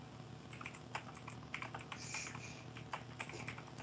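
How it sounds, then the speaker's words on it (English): Rapid clicky keystrokes from a mechanical keyboard patter unevenly over a low background hum, quiet and close, no voices. "Who has a mechanical keyboard?"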